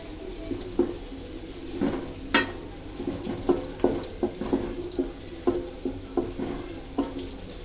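Ghee sizzling in a pan while chicken biryani cooks, a moderate hiss under a run of regular scraping stir strokes close by, with no voices.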